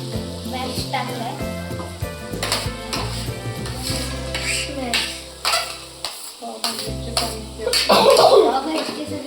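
Pav bhaji ingredients stirred and sizzling in a home kadai, a soft frying sizzle with scraping and clinking of a spoon against the pan, under a steady music track and a few vocal sounds.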